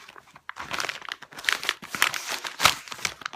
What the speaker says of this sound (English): you're just going to untwist the edges and unwrap it